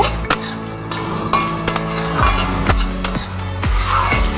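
Diced onions frying for chilli chicken are stirred in a pan, with a steady loud sizzle broken by repeated sharp clanks and scrapes of the spatula against the metal.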